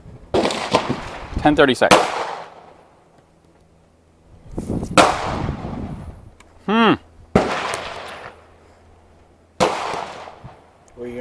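Pistol shots at an outdoor pistol range ring out in several sharp, loud cracks with reverberant tails, some close and some further off, while people talk nearby.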